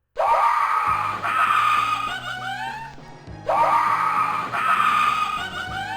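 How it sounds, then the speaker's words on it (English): Echoey, terrifying yelping monster scream from a Ravenloft video game, two loud harsh shrieking bursts with swooping pitch over a low droning game soundtrack, reverberant and close. "it'll let out this like yelping scream that sounds like it's like echoey and terrifying"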